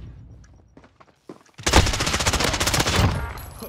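Rapid automatic gunfire bursts out in a video game, a dense clattering stream of shots that follows a brief near-silent stretch with a few scattered sounds, then hammers on loudly to the end.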